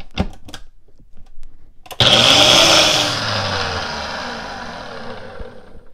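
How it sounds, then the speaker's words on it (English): A blender kicks on abruptly and whirs loudly and steadily, blending a vanilla shake with caramel, its roar easing slightly as it runs on, after a few soft kitchen clicks and taps. "now what we wanna do is blend this together real good, just to mix the caramel in there real good"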